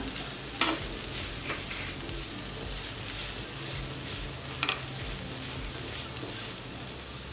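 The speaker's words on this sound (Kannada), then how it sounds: "ಹುರಿದಿಟ್ಕೊಂಡಿರೋ ಮಡಿಕೆ ಕಾಳು ಸೇರಿಸ್ಕೊಳ್ಳೋಣ ಮಿಕ್ಸ್ ಮಾಡ್ಕೊಳ್ಳೋಣ" Roasted moth beans being mixed in a pan with turmeric, a steady close sizzle with scraping stirs and a couple of sharper spoon knocks against the pan.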